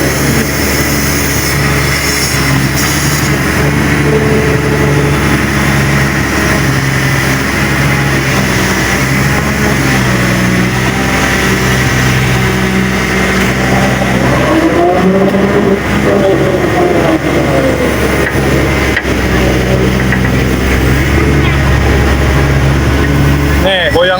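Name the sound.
garbage truck engine while dumping waste at river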